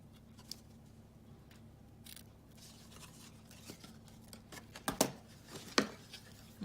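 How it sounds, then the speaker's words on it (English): Scissors snip paper trimmed for a handmade card: a few faint, quiet cuts, with two sharper snips near the end in a hushed room. "I might just cut slightly a little bit off."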